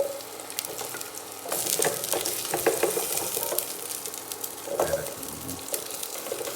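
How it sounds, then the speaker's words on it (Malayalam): Chopped onion and vegetables sizzling and frying in a hot pan for cream of vegetable soup in a restaurant kitchen, a loud crackling sizzle that swells as food is stirred, with occasional scraping. "ഞാൻ അതിലോട്ട് ഒനിയൻ ഇടുന്നു."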